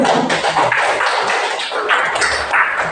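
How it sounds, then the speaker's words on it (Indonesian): Students applauding in a classroom, a dense burst of hand claps that carries on for a few seconds, close and fairly loud, with no talking over it. "Beri aplaus untuk Muhammad Khalif."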